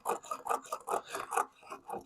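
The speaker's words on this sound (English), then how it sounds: "I'll just go with a spoke shave to clean this mess off." A spokeshave shaves glued wood on a rocking chair leg, making quick, rhythmic rasping strokes close by, about ten short scrapes in a row.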